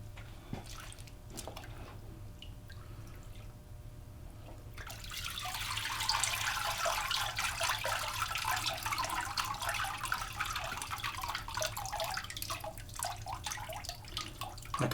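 Water sloshes and swirls as paper pulp is mixed by hand for homemade paper. The noise is quiet at first, then becomes a steady close splashing and trickling that lasts about ten seconds.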